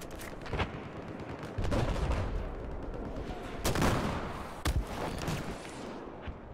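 Gunfire in Battlefield 4: loud, close shots and sharp blasts punch through a dense rumble of battle, with repeated bursts and heavy impacts across the whole stretch.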